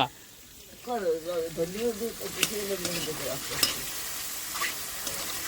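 Butter garlic mushrooms fry in a pan with a continuous sizzle and occasional stirring clicks, while a voice speaks over the first half and then drops away, leaving the close frying sound alone.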